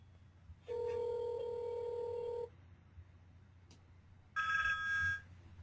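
A telephone call ringing through, with two distinct ringback tones separated by a short pause over a faint low hum, clear and close with no talk.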